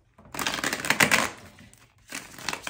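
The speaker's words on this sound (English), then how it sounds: "that did not feel like a very clean shuffle" Tarot cards riffled and shuffled in two quick bursts of dense crackling clicks, close by, with a brief pause between them.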